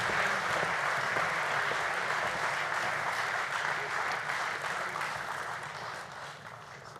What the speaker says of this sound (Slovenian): Dajmo še en aplavz, prosim